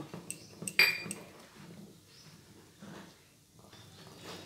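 A spoon scrapes and clinks against a pan while kheer posto with added cardamom is stirred, with a sharp metallic clink early and softer scraping strokes after, fairly faint and close.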